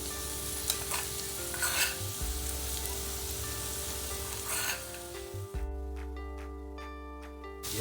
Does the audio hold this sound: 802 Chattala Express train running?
no